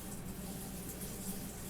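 Filtered water poured into a jar of cucumbers for cinnamon pickles, a steady close splashing and gurgling stream that runs without a break, with no talking.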